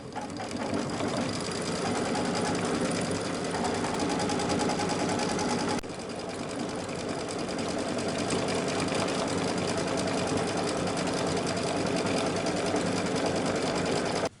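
An embroidery machine stitches applique details onto a T-shirt, a rapid, steady mechanical chatter that runs continuously with one brief pause partway through.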